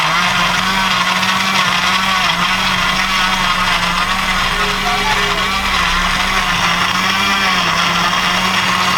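An electric blender grinds potato, green chilli and garlic with a loud, steady motor whine close up, its pitch dipping slightly as the load shifts.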